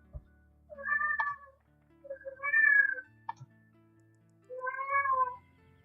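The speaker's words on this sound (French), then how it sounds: "C'est le chat." A house cat meows three times indoors, each call drawn out with short gaps between, clear and close, with faint thumps in the background.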